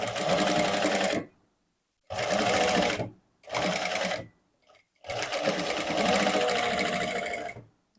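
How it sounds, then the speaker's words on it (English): A sewing machine stitches the waistline of a dress in four loud, close bursts of steady whirring, separated by short silent pauses, with no talking. "go ahead and stitch to secure the waistline"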